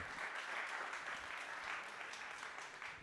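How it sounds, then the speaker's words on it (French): Conference audience at a talk on neighbourhood health and environment applauds a speaker, a soft, distant, even wash of clapping lasting a few seconds. "On peut encore applaudir Simon Davis pour cette intervention."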